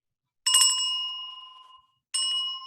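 Two inexpensive handbells, used as a stand-in for Montessori bells, each struck once and left ringing with a clear, bright tone; the first rings out and fades slowly, the second follows after a short silence.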